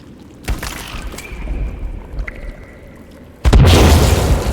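In the survival game Sons of the Forest, a sticky bomb goes off with a sudden loud blast late on, after quieter thuds and a faint tone, then leaves a sustained roaring tail.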